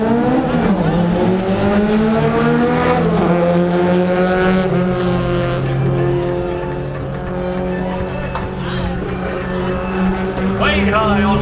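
A boosted Nissan 240SX and a right-hand-drive Toyota AE86 Corolla race side by side in autocross; loud, continuous engine drone rises and holds throughout with a brief dip midway, and an announcer speaks over it.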